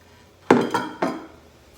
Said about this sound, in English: And I'm going to add my meat back to the pot.